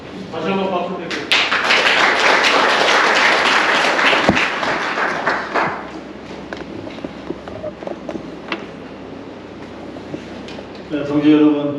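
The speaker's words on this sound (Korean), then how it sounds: "다시 한번 박수 드릴게요." An audience claps loudly and steadily at a memorial ceremony. The applause fades to scattered claps and light footsteps, with voices speaking briefly at the start and end.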